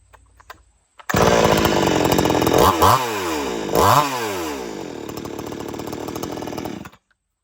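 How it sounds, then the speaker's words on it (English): An old-school chainsaw roars to life after a few quiet clicks, revs up twice, idles loudly for several seconds, then cuts off abruptly. "And that's how you start your chainsaw."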